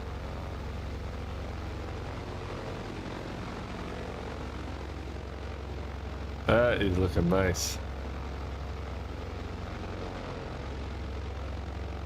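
Steady airplane engine drone from Microsoft Flight Simulator 2020 runs throughout as a constant hum, with a brief louder burst of tonal warbling midway and someone speaking over it.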